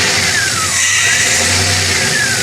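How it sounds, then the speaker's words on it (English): A DeLorean engine idles roughly at close range, and a single throttle blip sends the revs briefly rising and falling before it settles back toward a struggling idle. "that was only blipping the throttle once"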